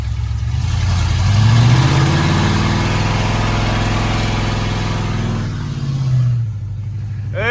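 A 32-year-old Ford F-150 truck engine that sat for over ten years rumbles and revs as the truck pulls off, a steady loud drone with rising and falling engine pitch, near and without talk.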